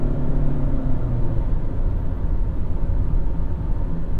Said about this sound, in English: It is having to rev out quite a bit.